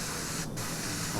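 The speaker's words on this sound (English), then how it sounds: "Is it also possible to spray it with a very narrow angle to make it very detailed?" Paint sprayed from an airbrush onto a diorama makes a steady, soft hiss that dips for a moment and then continues, with no talk over it.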